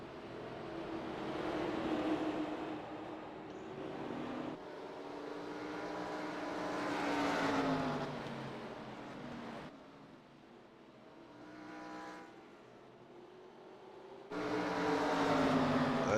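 A pack of NASCAR stock cars racing in traffic at North Wilkesboro Speedway in iRacing, a steady droning roar of engines swelling and fading as cars pass, loud and continuous with no talk.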